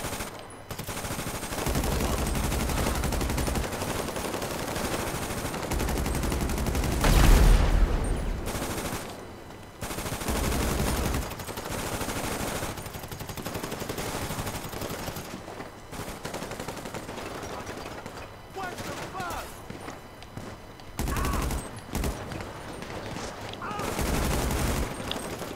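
Gunfire in GTA Online, bursts of rapid shots and machine-gun fire returning again and again over a long stretch, moderately loud against steady game background.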